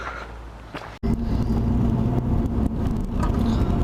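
A Honda Civic Type R engine with a K&N induction kit roars loudly from close by, a throaty intake rush with revving surges after a brief quieter moment.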